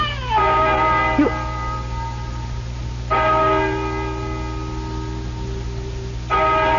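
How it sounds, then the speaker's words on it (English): A deep church-style bell tolls slowly in a radio drama, three resonant strikes about three seconds apart, each ringing out with a long humming decay, loud and alone. "Listen to that bell."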